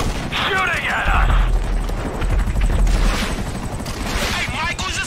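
Rocket explosions and gunfire in the video game GTA V, a dense, continuous roar of blasts and shots with rumbling low booms, loud throughout, mixed with shouting voices.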